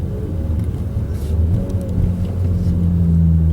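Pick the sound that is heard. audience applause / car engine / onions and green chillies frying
car engine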